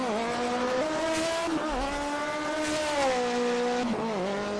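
Alfa Romeo 155 Ti race car in a racing video game at Spa-Francorchamps, a strained engine howling steadily and shifting pitch through gear changes, with brief dips as it brakes and accelerates, loud and close from the cockpit.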